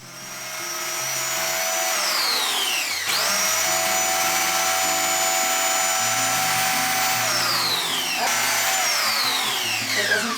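A belt sander freshly repaired after a jam runs steadily at close range, a loud continuous whine that drops in pitch and restarts twice as it is switched off and on, with no voices.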